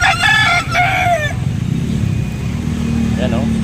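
Native chickens at an outdoor market in Angeles City, Pampanga, with a rooster crowing over clucking fowl and steady crowd chatter, a passing motorcycle engine rumbling low underneath.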